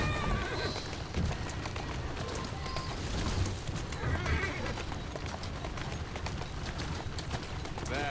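In Assassin's Creed Syndicate, a horse whinnies and its hooves clip-clop on a street amid busy city ambience, with brief bird sounds and people talking nearby.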